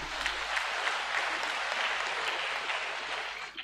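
An audience gives a steady, dense round of applause at a military academy's pipping and commissioning ceremony. The sound is moderately distant and fills the whole stretch without pause.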